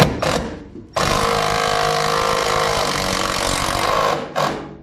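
A power screwdriver drives screws to pull car body panels together on a Datsun: a short whirring burst, then a long sustained loud run of motor whine and grinding, ending with one more brief burst.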